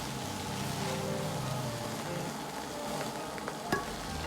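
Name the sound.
stir-frying duck meat in a wok over medium heat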